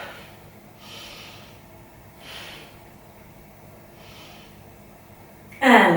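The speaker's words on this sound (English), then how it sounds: "3 big breaths" Deep breaths taken during a yoga core exercise: three slow, soft airy exhales come at a steady pace, quiet and close, and a sudden louder noise cuts in at the very end.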